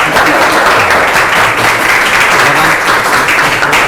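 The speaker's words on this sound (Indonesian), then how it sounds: "kita aplaus bagi kelompok 1" A classroom audience applauds a student group's presentation, a dense, loud and steady wash of clapping throughout.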